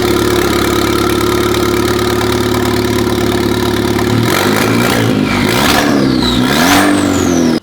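A loud, raw Volkswagen Polo GTI engine running without its catalytic converter idles steadily, then revs up and down a few times, close and harsh-sounding.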